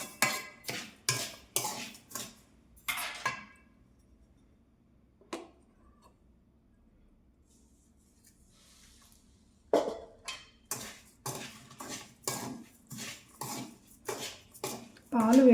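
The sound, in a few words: stirring sugar into hot milk in a pot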